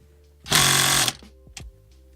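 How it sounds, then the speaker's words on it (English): A Ryobi impact drill whirs loudly for about half a second at close range during an SRT8 steering wheel install, then stops, followed by a few light clicks and knocks. "I'm gonna try to see if my Ryobi impact drill does a job"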